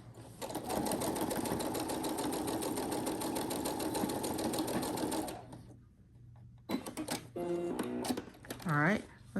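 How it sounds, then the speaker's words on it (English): A sewing machine stitches across fabric for a fabric basket, a steady fast run of needle clatter for about five seconds, then stops; someone talks afterward. "we're going to stitch forward and reverse like we normally do. And we're going to stitch on across"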